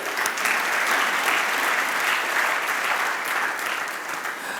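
Congregation applauding in church during a Resurrection Day sermon, a loud, sustained burst of many hands clapping that holds steady throughout.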